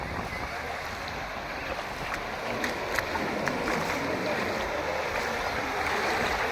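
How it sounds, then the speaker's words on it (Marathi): Sea waves at Guhagar beach wash in as a broad, steady surf rush that swells gradually louder, with faint wind and a person talking. "पाण्याच्या लाटा ज्या आहेत त्या अशा येत असतात"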